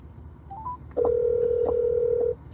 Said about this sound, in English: I'm calling you from my other phone